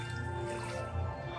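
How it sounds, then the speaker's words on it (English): Water trickles and drips steadily close by at a Tokyo immersive art attraction where visitors wade through shallow water, a soft liquid patter with no talk. "It's water."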